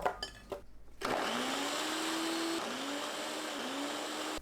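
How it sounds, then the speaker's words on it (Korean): Kitchen blender grinding chopped pear into a fine purée, a loud steady motor whine that starts abruptly after brief rattling and shifts pitch slightly as the fruit breaks down. "믹서에 배 넣고 곱게 갈아줍니다."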